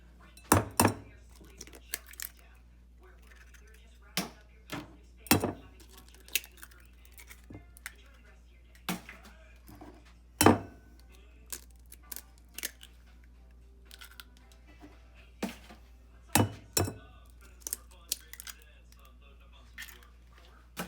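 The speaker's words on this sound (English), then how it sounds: "get a bowl and crack your eggs" Eggs crack against a bowl in a home kitchen while sausage and egg is being made, giving sharp, quiet taps and clinks of shell on the rim. The clicks come in irregular clusters with pauses between them, close up, against a low steady hum.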